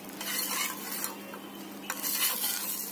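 Bottle gourd dosa sizzling in a covered pan on the stove, a steady soft frying hiss with occasional faint scrapes, no one talking.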